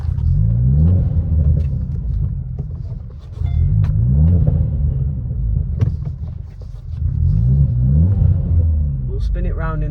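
A yellow car's engine turning the car around: a low, deep idling rumble that swells in three slow waves as the throttle rises and falls, loud and close, with someone talking over it.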